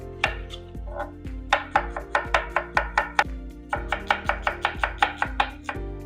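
Knife chopping vegetables and chili on a board for a cucumber relish, a steady run of crisp close strokes with a short pause midway, then a faster burst.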